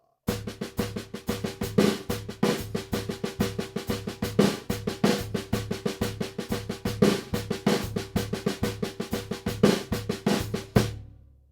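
Drum kit plays a longer two-beat baião groove variation, a steady repeating pattern of punchy bass drum and snare hits with cymbal over the top, loud and close with no voices.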